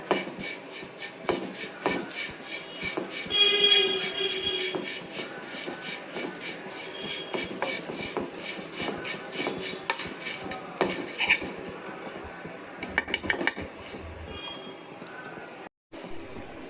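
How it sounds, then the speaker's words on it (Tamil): Semolina being dry-roasted with ghee in a pan, heard as repeated metallic scraping and clinking of a spoon against the pan. The strokes are quick and irregular, fairly close, and continue steadily without speech. "இதை நல்லா ட்ரை ரோஸ்ட் பண்ண போகிறோம்"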